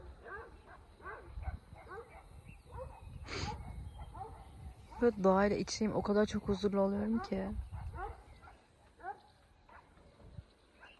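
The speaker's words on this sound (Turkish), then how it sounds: "Bir köpek istilasına uğradık." Several dogs bark and yip outdoors in the countryside, with short bursts and a whimpering call heard near and under steady talk from people walking.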